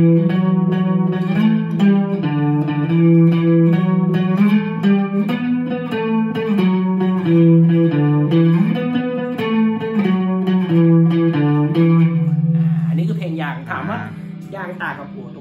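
An electric guitar with overdrive, chorus and reverb plays a sustained melodic line from a song, through a micro amp. The tone is shimmering and near-clean, with notes ringing loudly and continuously before a brief strummed flourish.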